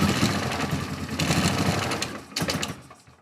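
A Polaris Sportsman 450 ATV engine with its original Mikuni carburetor runs close by with a fast, buzzy idle that sags briefly before picking back up, reluctant to take throttle.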